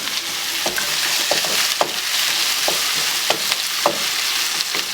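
Okra and potatoes fry in a pan over medium-high heat, giving a steady close sizzle with sharp crackles and stirring scrapes at irregular intervals, and no voices.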